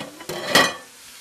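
Sausages and pancetta go into a hot pan, giving a brief sizzle with a soft clatter of the pan and utensil, quick and close, with no talking.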